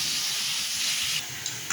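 Pieces of foli fish fry in white oil with a steady, fairly quiet hiss that drops slightly near the end, followed by a small clink.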